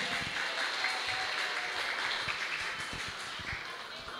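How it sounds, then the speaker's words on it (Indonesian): Lively applause from the audience at a karaoke competition held for the 105th anniversary of HKBP Kernolong church, with dense, steady clapping filling the whole stretch. "tepuk tangan yang meriah"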